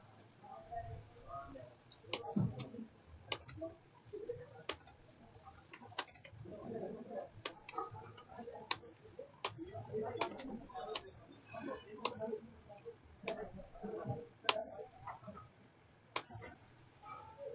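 Urdu text is typed on a computer keyboard in sharp, scattered key clicks that come in irregular bursts, close and fairly quiet, with a voice speaking softly underneath.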